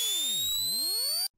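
A synthesized riser built from several sine waves climbing steadily in pitch, produced in FL Studio for a dubstep drop, loud and sustained alone before cutting off abruptly.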